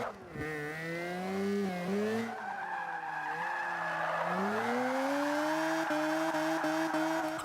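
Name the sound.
car drifting with tire squeal, Mazda RX3 in Forza 5 video game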